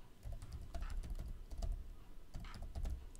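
Someone types a command on a computer keyboard, a quick burst of close, irregular key clicks with short pauses, and no talk.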